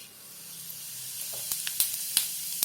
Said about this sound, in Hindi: तेल गर्म हो चुका है, अब उसमें डालेंगे जीरा।